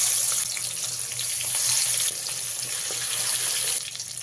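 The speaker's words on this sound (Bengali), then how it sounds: "একই পদ্ধতিতে বাকি মাছগুলো আমি ভেজে নেব।" Pieces of katla fish fry in hot oil for a wedding-style doi katla. A steady, bright sizzling hiss continues without a break, fairly quiet and close, with no voices.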